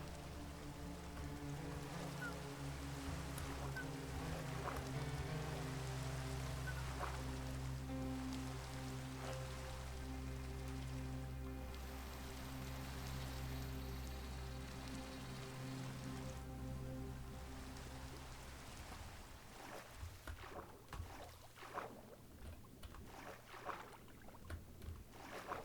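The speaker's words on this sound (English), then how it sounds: "I'm also really glad at how long it's raining." Rain in the video game TerraFirmaGreg, a soft, continuous patter under low sustained in-game tones, faint and unbroken throughout, with a few sharper clicks toward the end.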